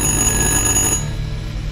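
An old cordless telephone rings in the Little Hope horror video game, a loud, harsh metallic bell tone that sounds continuously for about a second and then cuts off, leaving a low hum.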